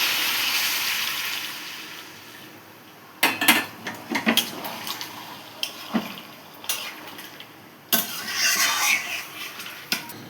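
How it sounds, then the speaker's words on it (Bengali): Hot water goes into a pan of shrimp, yam and potato curry: a few metal clinks and scrapes of a utensil, then a broad hissing rush near the end, close by with no talking. "এবার অল্প পরিমাণ গরম জলটা দেব।"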